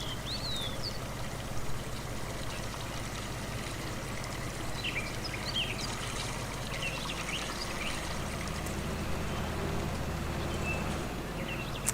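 Steady running water pours into a tank at a fountain on a farm in Farming Simulator, a continuous trickling wash with a low engine-like hum beneath and faint bird chirps above.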